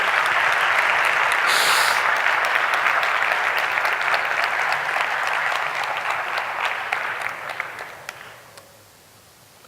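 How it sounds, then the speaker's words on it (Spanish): Audience applause at a cybersecurity conference talk at CyberCamp 2016, a full, dense burst of clapping that holds steady for several seconds, then thins out and fades to a few last claps. "Si queréis aplaudir, ¿vale?"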